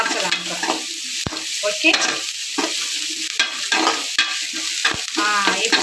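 Onion, ginger, garlic and fennel sautéing in a hot pan, a loud continuous sizzle broken by the repeated scrape and stir of a spatula.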